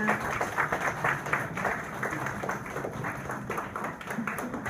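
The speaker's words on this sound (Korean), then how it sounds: "큰 박수 부탁드립니다." Sustained applause from an audience at a press conference for a Seoul senior film festival, dense overlapping clapping filling the room at a steady moderate level throughout, with no break.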